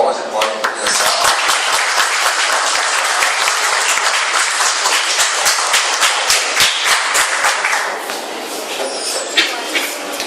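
Loud, sustained applause from an audience at a school science fair talk welcoming two young presenters, dense clapping throughout that thins slightly toward the end with some voices mixed in.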